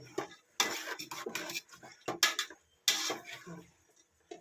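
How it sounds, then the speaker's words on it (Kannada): Metal spoon scraping and clinking against a pot while thick curry for egg sambar is stirred and mixed, in short irregular bursts of clatter separated by brief pauses. "ಇದನ್ನು ಚೆನ್ನಾಗಿ ಮಿಕ್ಸ್ ಮಾಡ್ಕೊಳ್ಳೋಣ"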